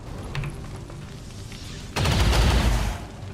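Rapid gunfire bursts at turrets in XCOM 2, a quieter stretch of scattered shots giving way to a loud, dense volley of automatic fire near the end.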